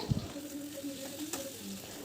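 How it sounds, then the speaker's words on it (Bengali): Sliced onions and chopped tomato with a little salt frying in a pan make a soft, steady sizzle, with a brief clatter at the start and occasional faint stirring. "পেঁয়াজগুলো যখন লাল লাল করে ভাজা হয়ে যাবে, তারপর টমেটো কুচি দিয়ে দেবো অল্প"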